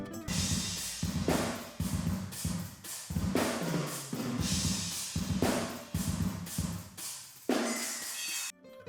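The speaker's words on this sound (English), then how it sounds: "A very big part of the snare sound comes from the room microphones." Snare drum hits ring out in a room in a steady repeating pattern, roomy and reverberant, with a pause before the final hit.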